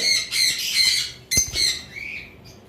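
Lovebirds squawk loudly in sharp, shrill bursts, close by, with a brief thump between calls.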